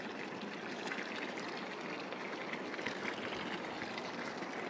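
Steady, even rush of the Relli River flowing beside a riverside homestay, a continuous close water sound with no voices.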